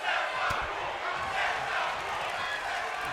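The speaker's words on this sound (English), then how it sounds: "comment down in the description if you understood what the crowd just chanted" Arena crowd in the WWE 2K22 wrestling game chanting in unison, a loud, dense wall of voices with rhythmic swells that fills the whole moment without pause.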